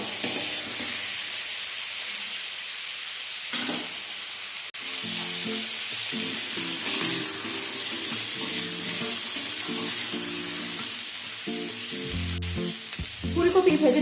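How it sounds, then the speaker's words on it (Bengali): Cauliflower frying in oil makes a loud, continuous close sizzle with occasional clinks and scraping stirs, plus a burst of rattling toward the end. "ফুলকপি এইগুলোকে ভেজে নিতে হবে"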